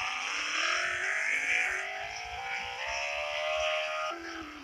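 A car engine in a Roblox game hums and shifts pitch as the vehicle drives, rising and falling through gears with a clear whine, fairly loud and alone without talk.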